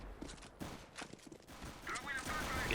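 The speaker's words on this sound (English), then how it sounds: "You could see the gunfire." Gunfire in a competitive CS:GO match on the De_Coast map from Operation Wildfire: scattered sharp shots crack amid game noise, while players talk over them.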